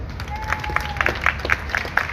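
Scattered, sparse clapping from a small crowd at an outdoor Trial of Jack McCall show, with a thin whistling tone drifting underneath and a low background rumble.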